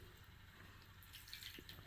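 Water siphoning through a Harbor Freight Pittsburgh multi-use transfer pump, a quiet continuous trickle with soft dripping and faint gurgles, steady and close but low in level with no talking.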